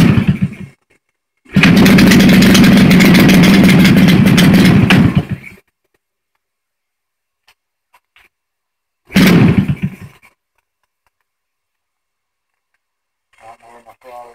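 A J C EVO 120 engine fires up on its first start after two years, roaring loudly for about four seconds, cutting out, then bursting briefly again; a voice is heard faintly near the end.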